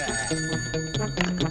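An old-style telephone bell rings in quick repeated trills, loud and close, filling a short stretch with no talking over it.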